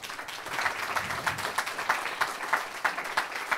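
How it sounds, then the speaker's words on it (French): Audience applause for speakers at a talk on industry's environmental transition, a fairly faint, steady patter of hand clapping from a seated crowd. "On peut vous applaudir."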